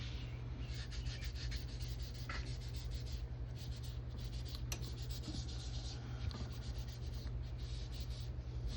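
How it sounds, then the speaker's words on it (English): A magic eraser rubs over a comic book in quick, repeated scratchy strokes, faint and close, over a steady low hum. "And then I'll go over it with the magic eraser."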